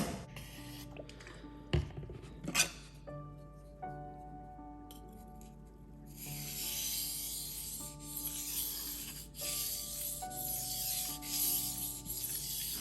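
Steel blade rubbing and grinding on a Cerax 320/1000 whetstone, a steady close scraping rasp with occasional metallic clinks, getting busier and louder in the second half.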